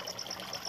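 Dirty water trickles and splashes through a homemade recycled water filter bucket, a brief, continuous close-up gurgle of flowing liquid.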